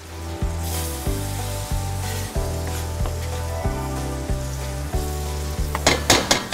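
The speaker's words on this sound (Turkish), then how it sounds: "Yağım eridi, soğanlarımı koyuyorum." Steady, loud sizzling of onions frying in melted butter in a pan, with repeated stirring scrapes and a few sharper crackles near the end.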